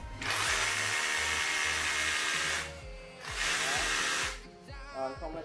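Metabo KHA 18 LTX BL 40 cordless 18V hammer drill boring into iron, two loud sustained whirring bursts of a few seconds each with a brief dip between, then a short tail-off, over faint background music.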